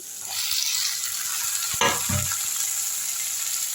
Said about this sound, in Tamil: இந்த காயை எடுத்து இதில் கொட்டிக்கலாம்